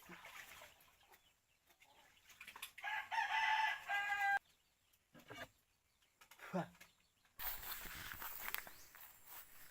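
Chickens cluck and squawk nearby in short bursts, mixed with footsteps and rustling, and a rooster-like call rising at one point.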